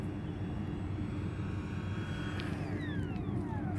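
Steady whine and rush of an RC model DH 100 Vampire jet flying overhead, continuous and moderately loud, with a rising tone sweeping past near the end.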